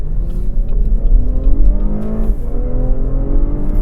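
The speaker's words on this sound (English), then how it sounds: "What is important is the way this thing sounds off the line, and how it launches off the line" A 2016 Cadillac CT6 Premium V6 AWD launches off the line, its engine note rising in pitch under acceleration with a strong low rumble, loud and continuous without talk.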